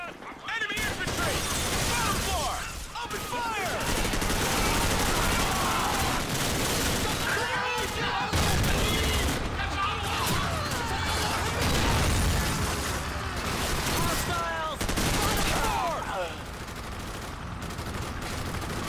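Enemy troops firing in a video game, dense sustained gunfire with rapid overlapping bursts and shots that run almost continuously, while voices shout over the battle.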